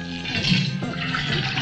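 Water gushes steadily from a hose into a car's fuel tank during a comedy skit, a continuous close splashing and pouring rush that runs unbroken throughout.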